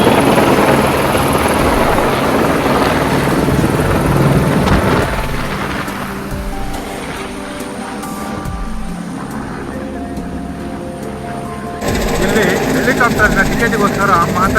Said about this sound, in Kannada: ಇಲ್ಲೇ ಹೆಲಿಕಾಪ್ಟರ್ ಇದೆ.